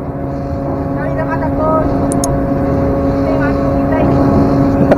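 A ferry ship underway from Parepare, South Sulawesi, carrying trucks: a steady, loud droning engine hum with sustained tones and churning noise throughout, with faint voices in the background.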